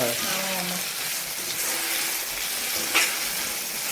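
Onions and tomatoes sautéing in a pan for a prawn gravy, with a continuous close sizzle and a single sharp scrape of a spatula near the end.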